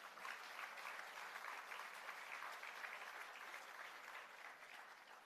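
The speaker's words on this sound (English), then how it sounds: "You can give them a round of applause." Continuous audience clapping at a grand opening ceremony for a new poultry processing plant, even and sustained, sounding somewhat distant and quiet.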